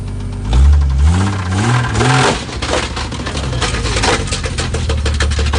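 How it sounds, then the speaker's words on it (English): A damaged Jeep engine, apparently with a fault through the oil pan, revs up loud and close, climbing in pitch then holding a rough, knocking drone with no talk over it. "Let's get the RPMs up so they can hear it"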